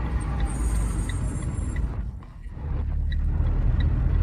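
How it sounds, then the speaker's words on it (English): Car brakes give a thin, high whistle while braking, lasting about a second and a half over a low road rumble. The whistle then fades, and the rumble dips and returns. "You hit the brakes and hear a whistle. Listen to this sound. I'll brake now."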